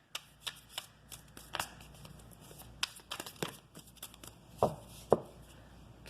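A deck of love oracle cards being shuffled close up, with quiet riffling and sharp irregular slaps and taps as the cards are handled, no talking.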